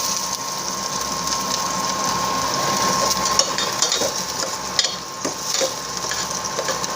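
A spoon stirs salmon belly miso sinigang in a pot, giving a steady scraping and bubbling churn that runs continuously at close range, with a few sharper knocks and no voices.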